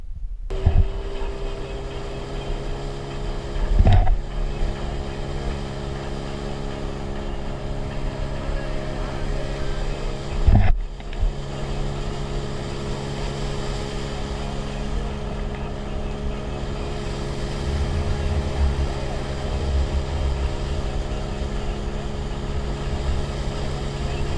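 A Suzuki 9.9A/DT15A outboard boat motor being run in, holding a steady droning hum near the microphone throughout, with a couple of brief knocks and a slight rise in engine roar toward the end.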